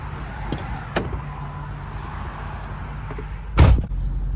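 A truck door thuds shut loudly near the end, preceded by a couple of sharp clicks and handle knocks over a steady low idle-like rumble, with no talking.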